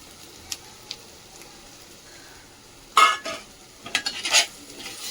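Spices such as black chili powder and salt being stirred in a pan for dry mutton sukka: quiet background sizzle broken by a few sharp scraping and clinking strokes of a spatula against the pan.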